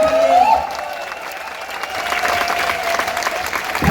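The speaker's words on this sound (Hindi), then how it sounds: "एक बार जबरदस्त जोरदार तालियां बजाइए" Loud, enthusiastic applause from a seminar audience at a leadership development program recognition event, dense clapping that dips briefly then surges again, with a faint tonal whistle or feedback at the start.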